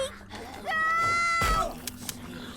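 A female character in The Walking Dead: Destinies video game lets out a loud, sustained, harmonic scream lasting about a second, rising over quieter game noise with faint clatter before and after.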